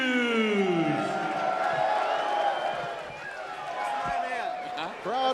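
Boxing crowd in a ballroom venue cheering and whooping as a fighter in a hat makes his ring entrance: a dense, continuous roar of voices that dips slightly and then swells again, with an announcer talking over it.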